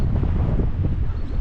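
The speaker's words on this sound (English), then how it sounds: "It's a bit breezy" Steady outdoor wind buffeting the microphone on a breezy morning beside parked vans at a campsite, a continuous low rumbling roar with no talk.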